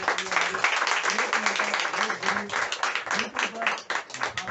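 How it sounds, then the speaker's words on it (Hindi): Sustained applause from a crowd, steady clapping throughout with voices mixed in underneath. "एक बार फिर से एक बार जोरदार ताली"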